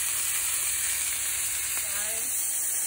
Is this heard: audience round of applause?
no